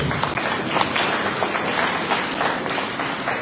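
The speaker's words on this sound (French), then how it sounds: "Vos applaudissements, s'il vous plaît." A large audience applauds continuously at a parliamentary capacity-building seminar ceremony, forming a dense, even wash of clapping that fills the whole stretch.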